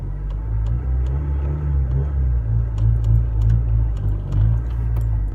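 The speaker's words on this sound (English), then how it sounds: "just flutter the gas like this. And then let off the clutch slowly." A manual car's engine holds a loud, close, steady low rumble as the gas is fluttered and the clutch slowly let out, rising and falling gently in pitch, with faint clicks above and no talk.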